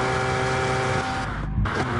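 Porsche race car engine in a racing game, a steady loud harmonic drone holding pitch through the lap with a brief dip near the end, heard alone without talk.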